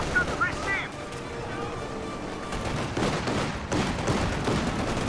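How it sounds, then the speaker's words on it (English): An MG34 machine gun fires bursts in a WWII real-time strategy battle between Oberkommando West and U.S. forces. The gunfire is dense and dull, heard through a steady wash of battle noise, with speech present in places. "The MG34 is going to suppress him"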